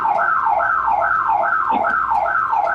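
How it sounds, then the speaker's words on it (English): A house alarm set off at the front door wails in a steady, repeating rising-and-falling electronic siren, loud and continuous with no voices. "And triggering an alarm."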